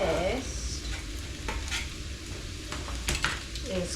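Garlic and onions with ginger paste cooking in a pan for a low-fat korma curry: a steady sizzle with spoon stirring and occasional clinks of utensil against the pan, close and continuous throughout.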